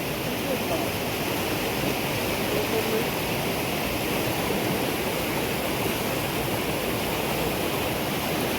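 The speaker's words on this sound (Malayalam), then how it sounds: "നല്ല ശക്തിയായിട്ട് വെള്ളം പോവാണേ." Floodwater rushes hard through waterlogged fields during monsoon rains, a loud, unbroken roar like a waterfall that holds steady from start to finish.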